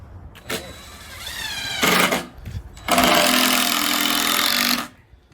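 A power tool drives screws while building a deck outdoors, whirring loud and close in a short burst and then a longer, steady two-second run, with pauses between.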